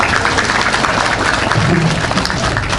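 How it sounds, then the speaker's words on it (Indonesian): Applause from a crowd at a sermon event in a subdistrict office, a dense steady wash of clapping filling the whole stretch, with a faint voice underneath. "Tepuk tangan dulu Pak Camat"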